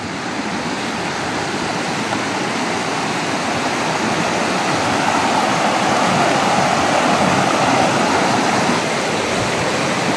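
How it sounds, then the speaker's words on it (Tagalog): Steady, loud rushing of flowing river water, a continuous broadband roar with no pauses and no voices. "Ito na yung ilog."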